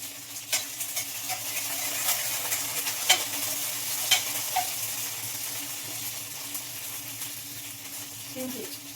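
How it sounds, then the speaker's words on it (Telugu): Curry leaves and green chillies frying in a pan, with a continuous soft sizzle and occasional stirring clinks, close and moderately loud under a faint background hum. "కరివేపాకు పచ్చిమిరపకాయలు వేగే వేగాలండి బాగా"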